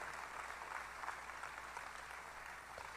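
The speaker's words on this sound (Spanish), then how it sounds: "Den un aplauso al Señor de que Él quiere hacer ese milagro en nosotros." A church congregation applauds during a sermon, a sustained, even wash of many hands clapping, heard at a low, distant level without pauses.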